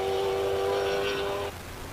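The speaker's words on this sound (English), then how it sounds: "let's just enjoy the symphony of a Ferrari V8" Classic Ferrari V8 race car accelerating hard at a hill climb event, a loud sustained engine note rising in pitch before cutting to a lower drone as it moves off.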